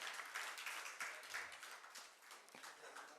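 Faint, distant audience applause, a steady patter of many hands, welcoming award recipients at the inaugural ceremony of a badminton academy in Varanasi.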